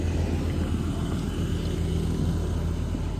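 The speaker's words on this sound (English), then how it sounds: "Get the vacuum pump going." An HVAC vacuum pump runs for a mini-split pump-down on a roof, giving a steady, dense low rumble with a constant droning hum, close and continuous, with no voices.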